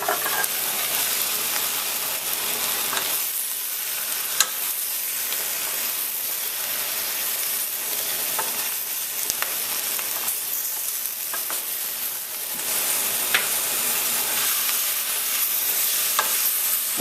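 Butternut squash and garlic sauté in a hot pan, giving a steady bright sizzle and hiss with repeated scraping stirs throughout, close and alone with no talking.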